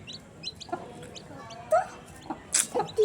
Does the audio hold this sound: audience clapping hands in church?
no